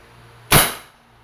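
A single sharp crack from a Crosman SR 357 airgun revolver fired double action, close and loud, with a quick decaying tail and no talking.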